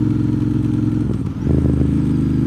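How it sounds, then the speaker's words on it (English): Can-Am Spyder three-wheeled motorcycle riding near Deals Gap, engine drone loud and steady with a brief dip then rising again, close and continuous with no talk. "Got us a Can-Am Spyder from Florida."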